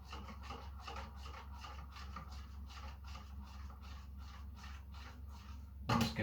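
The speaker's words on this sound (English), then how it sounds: "Just give it a nice stir whenever you're doing chemistry." Stirring homemade bubble mixture, a steady rhythmic rubbing and scraping repeated about twice a second over a low hum, ending with a brief louder clatter.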